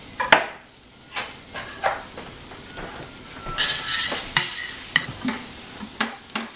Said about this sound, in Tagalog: Sa isa pang pan, magpainit ng konting butter. Tapos magsaute din ng konting chopped garlic.